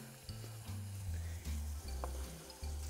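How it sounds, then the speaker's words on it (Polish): Diced vegetables and smoked bacon sizzle steadily in a frying pan for soup, a soft continuous crackle with low rumbling stirs and occasional clinks, no voices. "Warzywa się pięknie smażą."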